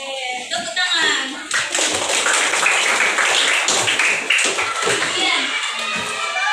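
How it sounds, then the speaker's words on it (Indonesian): Students in a classroom clap together in a lively burst, many hands clapping quickly and close by, with children's voices chattering over and among the claps. "Oke, tepuk tangan."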